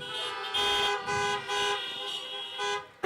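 Several car horns honk in overlapping bursts at a drive-in graduation ceremony, with four or five loud toots in irregular rhythm, close and sustained, and no talking.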